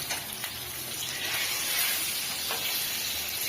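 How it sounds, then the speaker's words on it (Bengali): An egg fries in hot oil in a village kitchen, giving a steady, hissing sizzle that continues evenly throughout with no talking. "ডিমটা এই যে সুন্দর করে ভেজে নিচ্ছি, লাল লাল করে প্রথমে ভাজা হবে।"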